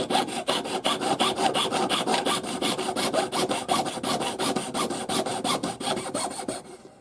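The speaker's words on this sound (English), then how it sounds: "So we just keep doing that, sawing and then bringing it back together." Steady back-and-forth rasping of a jeweler's saw cutting through a forged opal ring, about twenty-five quick regular strokes, close and continuous with no talking.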